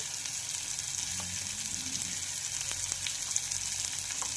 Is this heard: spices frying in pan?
yes